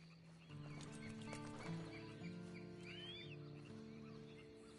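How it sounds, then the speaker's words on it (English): Rhythmic clip-clop of horse hooves at a walk in Red Dead Online, with a short whinny, a faint bird call and a low sustained musical drone beneath. "Then you better get on this horse."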